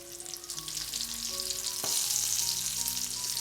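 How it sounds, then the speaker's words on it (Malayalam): Fish pieces fry in a pan for a Kerala-style fish roast, giving a steady, loud, close crackling sizzle throughout with a faint tonal background. "ഇപ്പോൾ നമ്മുടെ മീനിൻ്റെ 2 സൈഡും നല്ലതുപോലെ ഒന്ന് ഫ്രൈ ആയിട്ട് കിട്ടിയിട്ടുണ്ട്."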